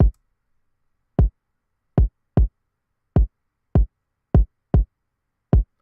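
A deep FL Studio kick drum repeats one low pitch, following the syncopated rhythm of an 808 pattern: about ten punchy, booming hits with short gaps, clear and alone with no other instruments.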